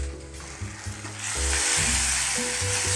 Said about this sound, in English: stir those up on in there